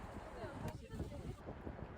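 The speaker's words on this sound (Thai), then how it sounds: "แต่ว่าที่นี่ลมแรงมากค่ะ" Strong wind buffets the microphone at a seaside cliff above the sea in Okinawa, a continuous rough roar with gusty swells, while a voice speaks faintly underneath.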